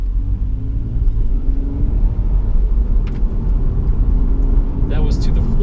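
A Lexus IS300 four-door sedan accelerating at full throttle through traffic gives a steady, loud engine rumble that runs throughout, with a faint brief rattle near the end.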